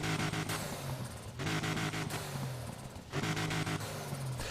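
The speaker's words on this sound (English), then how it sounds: "While you're in this menu, you can turn on the car and rev it up." A naturally aspirated car engine in the Need for Speed Heat menu revs in repeated bursts, rising and dropping back to idle three times, loud and close.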